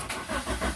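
A Perodua Kembara engine cranks briefly in an attempted start, a short rough churning burst close by with no voices.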